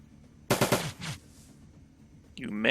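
A quick burst of several sharp gunshots from Shadowrun: Dragonfall, close and loud, followed by a brief quieter gap before a voice begins speaking at the end.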